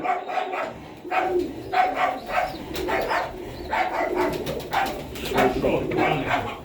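Mykolaiv pigeons in a shed coo softly while a dog barks repeatedly nearby and people talk over the birds.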